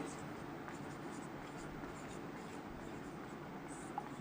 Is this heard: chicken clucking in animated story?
no